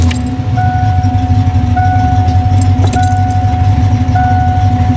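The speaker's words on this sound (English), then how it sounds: "There ain't nothing smells better to me than a brand new engine cranking up" A brand new Mustang engine fitted with a new Demon carburetor runs steadily with a deep, even rumble, while a faint tone and a few light metallic jingles sit over the drone.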